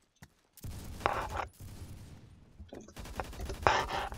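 Bursts of gunfire in the Roblox game Phantom Forces, including a G17 pistol, coming as two rapid clusters of faint shots with a brief pause between.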